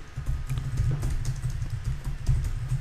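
Rapid, irregular keystrokes on a computer keyboard while code is entered, close and fairly steady, with a low hum running underneath.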